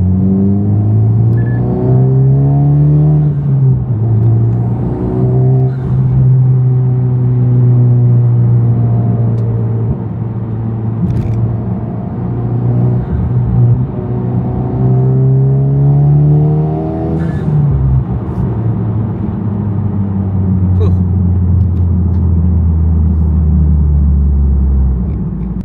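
Honda Civic Type R FL5 engine accelerating and revving, a loud, close, steady drone whose pitch climbs and falls in repeated sweeps before settling into a deep sustained rumble.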